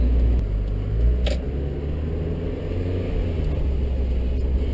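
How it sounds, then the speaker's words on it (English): A 2000 Mazda Miata drives along an open road, its engine and road noise forming a steady low rumble heard from inside the car, with a brief click partway through. "this is a 2000 Mazda Miata"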